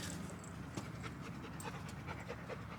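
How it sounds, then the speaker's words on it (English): A dog pants hard nearby in a garden, quick rhythmic huffing breaths repeating quietly and steadily with no talk over them. "that's Abby breathing real hard"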